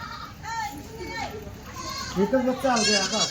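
Kathiawadi goat kids bleat in repeated wavering calls at close range, bunched in two bursts, with people's voices talking around them on a farm where goats are being delivered.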